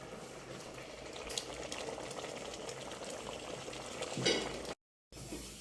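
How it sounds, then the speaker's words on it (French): Pot simmering on a low flame, a soft, steady bubbling and light sizzle close by, continuous and fairly quiet, broken by a brief silent cut near the end. "Je le laisse au feu pendant 5 minutes, au feu doux."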